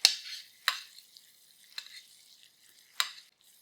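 A steak sears in butter in a pan with a faint, crackling sizzle. A few sharp spits and pops stand out every second or so, and no voice is heard.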